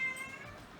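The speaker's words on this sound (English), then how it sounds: "You got a nice little meowing." A pet cat gives a single short meow, close and moderately loud, fading quickly into quiet room tone.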